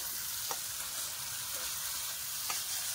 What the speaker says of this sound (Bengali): টমেটোগুলো দিয়ে একটু কষে নেবো। তেল ছেড়ে দিয়েছে মশলায়।